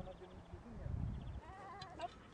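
Lambs bleating on a spring pasture in Şavşat, Turkey, a few wavering calls rising toward the end over a low rumble and a nearby voice talking.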